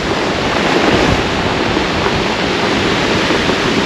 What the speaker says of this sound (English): The waves come in, and as they go out, you can hear the rocks being rolled